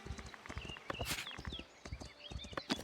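Hooves clip-clop at a quick, uneven walking pace, several animals close by, with a few high squeaky chirps mixed in, in the colony-building video game Foundation.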